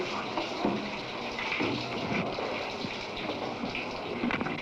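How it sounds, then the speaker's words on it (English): Shower water running steadily in a bathroom, a continuous close hiss of spray and splashing that stays even throughout with no pauses. "Cold shower, hot shower."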